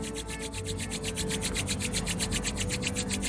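Both palms rub together briskly in a steady back-and-forth rhythm, a close, dry, repeated swishing that carries on evenly without talk.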